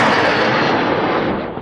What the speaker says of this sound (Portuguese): A gente está ouvindo aqui som de tiros, muitos tiros do lado de fora.